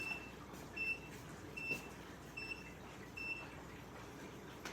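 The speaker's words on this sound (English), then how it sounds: "What's beeping?" Faint, high electronic beeping from a machine at home, short tones repeating about every three-quarters of a second over a low background hum.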